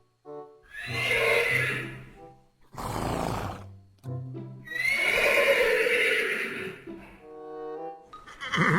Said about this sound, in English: look, that's a horse